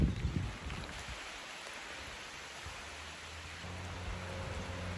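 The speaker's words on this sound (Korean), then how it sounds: "이제 찾고 있는데 비가 많이 떨어집니다." Rain falls during a bicycle ride on the Camino de Santiago route near Tours in France, heard as a soft, steady hiss of drops under low rumbling, with a brief louder patter at the start.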